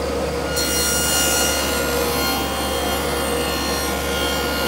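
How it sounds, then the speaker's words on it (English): A Freud dado blade cutting ambrosia (wormy maple) wood makes a loud, continuous, close whine. A sharp surge at the start settles into a sustained grinding rasp with no talking. "Freud dado blade."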